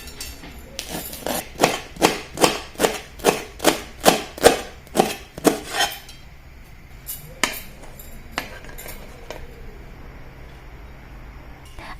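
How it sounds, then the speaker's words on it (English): Paan leaves chopped roughly with a knife on a board, about a dozen quick, evenly spaced knocks in a fast run, followed by a few scattered, quieter cuts; close and crisp with no talking. "Next, I start off by chopping the pan leaves roughly and place it into the mixie jar."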